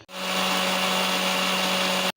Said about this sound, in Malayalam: നമുക്കിത് മിക്സിയിൽ പേസ്റ്റ് ആക്കാം